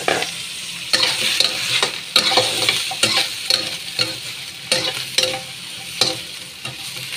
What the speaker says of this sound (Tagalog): Lagay ko muna dito kay prituhin ko yung talong.